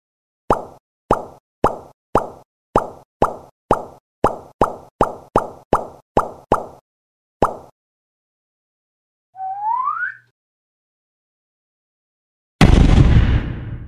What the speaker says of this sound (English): Pop the bubbles.